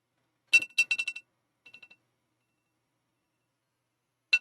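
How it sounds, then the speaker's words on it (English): Short electronic alarm beeps sound in quick bursts over near silence: a cluster of rapid chirps, a fainter triple beep, then one more chirp at the end. "Like that alarm."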